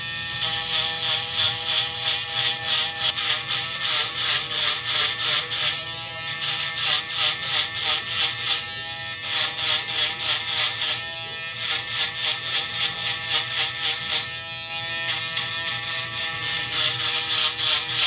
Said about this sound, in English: Okay, so with the electric shaver, I'm going to actually start at the back